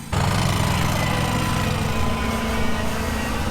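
A 60-inch Exmark zero-turn mower engine drones loudly and continuously on a steep slope, close by and alone, with no talking.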